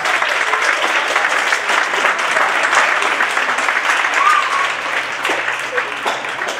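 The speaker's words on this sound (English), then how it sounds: "Also applaudiert euch bitte einmal noch selber dafür, dass ihr mit dabei wart." A crowd at a science competition finals applauds itself, a long, loud, steady round of clapping from many hands, close and sustained, with faint voices mixed in.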